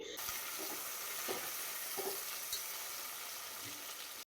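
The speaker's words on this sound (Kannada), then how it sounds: "ನಂತರ ಇದಕ್ಕೆ ಒಂದು ದಪ್ಪ ಸೈಜ್ ಈರುಳ್ಳಿನ ಕಟ್ ಮಾಡಿಕೊಂಡು ಸ್ಲೈಸಾಗಿ ಕಟ್ ಮಾಡ್ಕೊಂಡು ಸೇರಿಸ್ಕೊತಾ ಇದ್ದೀನಿ" Sliced onion and green chillies frying in ghee, a faint, steady hiss of sizzling with a few soft stirring clinks, close and low, no talking.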